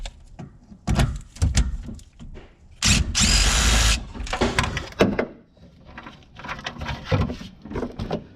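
A power tool whirs in short bursts while removing bolts inside the trunk of a Cobra car, with one longer loud run in the middle, set among clunks and handling knocks.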